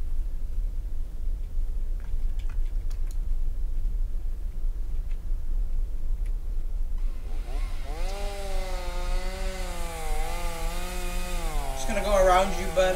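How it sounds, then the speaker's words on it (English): A chainsaw in the video game Escape the Backrooms, revving with a low, rising and falling engine whine in the latter half, over a constant low rumble, with a few sharp clicks earlier. "He has a chainsaw."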